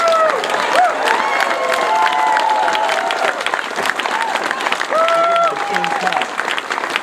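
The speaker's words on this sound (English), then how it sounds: "Give a big round of applause to the senator" Crowd applauding and cheering for Senator Ted Cruz at an event in a barn, a dense steady wash of clapping with whistles and shouts rising over it, loud and close throughout.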